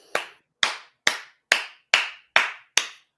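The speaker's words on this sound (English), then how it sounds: "got to clap at that" Seven crisp, evenly spaced hand claps ring out close and alone, each a sharp slap with a short decay, in a steady slow rhythm against silence.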